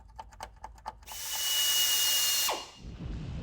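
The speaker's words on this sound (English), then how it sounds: "I want to mark a couple of spots to drill some holes" A power drill bores into the body of a Ford Mustang: a few short ratcheting taps, then a steady high whine for about a second and a half that winds down sharply, followed by low rumbling handling noise.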